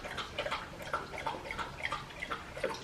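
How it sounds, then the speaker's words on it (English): Quick, rhythmic lapping and splashing of a dog drinking water, a steady series of small wet clicks close by. "Sorry, the dog is drinking water, so"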